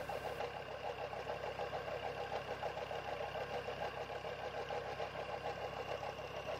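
A tractor engine runs steadily while driving a water pump turbine that lifts water onto farmland in Sindh, a continuous close mechanical drone with a fast regular pulsing throb and no speech.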